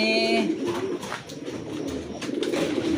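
Pigeons coo softly up close in a loft, a few low throaty calls over a brief stretch with faint background rustling.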